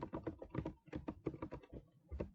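Quick keystrokes on a computer keyboard, a rapid run of close, crisp taps and thunks in uneven bursts, ending with a firmer key press, with no talking.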